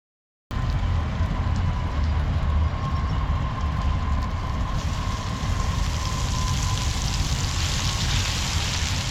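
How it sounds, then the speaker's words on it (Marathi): Mixed fish frying in a pan at an outdoor farm cooking spot, giving a steady, loud, dense sizzle that runs unbroken through the whole stretch with no voices over it. "आता लगेच आपण एकीकडे मच्छी पण फ्राय करून घेऊ"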